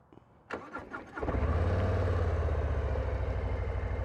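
A 2024 Harley-Davidson Low Rider ST engine cranks briefly with a few starter bursts, then catches and settles into a loud, steady, rumbling idle close by.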